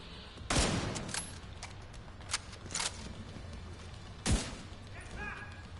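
Gunfire in The Division 2 comes as a few sharp, separated shots with short bursts, fairly quiet overall over steady ambient game noise, with occasional faint voice-like sounds.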